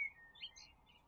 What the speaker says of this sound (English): you will hear birds, even if it's not appropriate in the game